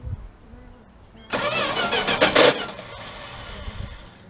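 An old truck's tired starter cranks the engine, a loud, steady whirring grind that starts abruptly and churns for several seconds without the engine catching, with a voice briefly heard nearby.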